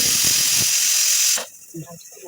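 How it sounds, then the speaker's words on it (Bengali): A loud, steady hiss of steam from a pressure cooker cooking chicken for biryani fills the first second and a half, then cuts off abruptly, leaving faint kitchen clatter. "প্রেশার কুকার ছিটি না দিলে ভালো হবে না"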